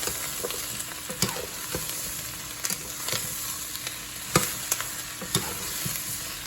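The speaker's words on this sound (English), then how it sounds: "I'm going to add them. Let's stir them up." Rinsed ingredients sizzle softly in a hot pan while a utensil stirs them, giving irregular scraping clatters and taps over a steady low frying hiss, close by and with no voices.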